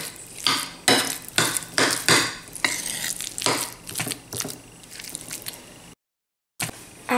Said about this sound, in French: Je rajoute des olives noires coupées en rondelles et je vais mélanger ma farce qui va me servir pour les batouts